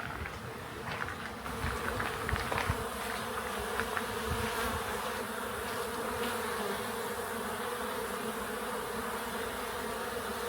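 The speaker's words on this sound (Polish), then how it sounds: "a w drzewie uwaga pszczoły" A steady, dense buzzing of many bees in a chestnut tree fills the air outdoors at a campsite in Croatia, continuous and moderately loud throughout with no voices.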